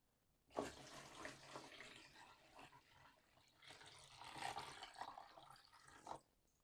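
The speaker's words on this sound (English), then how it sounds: "Let's get some more water." Water pours steadily into a container for several seconds, a broad splashing rush that swells and eases, then stops abruptly.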